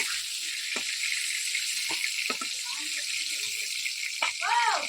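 Papaya and potato pieces fry in oil with a steady bright hiss throughout while a person talks over it.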